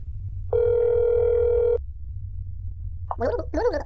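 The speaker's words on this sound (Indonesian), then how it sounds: "ya udah gue telepon deh buat make sure" A steady telephone dial tone from the horror game That's Not My Neighbor sounds loud and alone for just over a second, then cuts off; brief voice-like sounds follow near the end.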